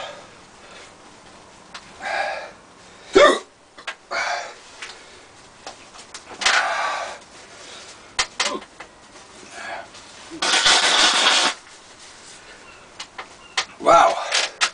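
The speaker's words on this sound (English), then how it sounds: "and of course the inevitable hiccups" Hiccups after vaping: several sharp, abrupt throat gulps and catches scattered irregularly among breathy exhales and rustling, close to the microphone and fairly loud.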